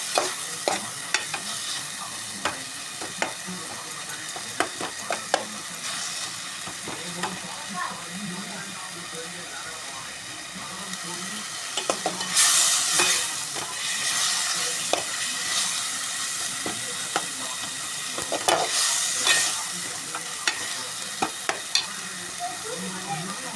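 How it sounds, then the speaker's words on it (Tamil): Kuzhambu curry being stirred in hot oil until the oil separates, a continuous sizzle with frequent spoon scrapes and knocks against the pot, swelling into louder hissing bursts at times, close by, with some talking over it. "பிரியிற வரையும் கிண்டிக்கிட்டே இருங்க."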